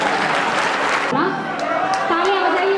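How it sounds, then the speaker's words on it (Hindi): An audience claps at a live music performance at KNIT Sultanpur. The dense, loud applause lasts about a second, then breaks off and gives way to sustained tones from the stage. "तालियां बजाइए एक बार।"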